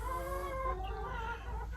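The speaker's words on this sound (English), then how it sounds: "There are 40 chickens here of 3 different kinds." Young Delaware chickens in a flock of about forty birds give soft, close, continuous clucking and chirping calls for a couple of seconds, with no voices.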